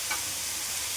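Food sautéing in coconut oil in a pan gives a steady, dense sizzle with no breaks, close and fairly loud, with no talking.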